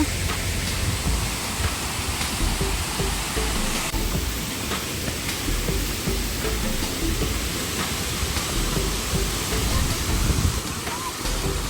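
Water roars steadily down Tarabu waterfall, a dense, continuous rush that holds even and unbroken throughout and sounds close and full.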